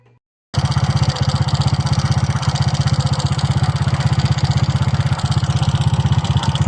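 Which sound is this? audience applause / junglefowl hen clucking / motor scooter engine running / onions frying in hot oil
motor scooter engine running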